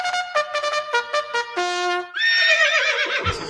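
A horse whinnies loudly and close, a tonal call of several rising and falling bursts that ends in a rough, shaky neigh, like a stock sound effect played at the opening of a trading session.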